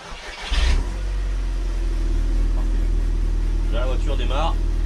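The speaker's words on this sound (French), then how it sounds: "Là la voiture démarre." An Audi R8 engine catches and settles into a steady, loud idle after a short cranking burst, with a person speaking briefly over the running engine.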